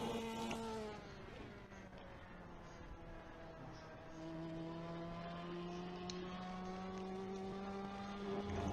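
Race car engines in a Ferrari Challenge racing video game at Silverstone, a steady rising drone of several cars accelerating away from the start, moderate in level with a gear change partway through.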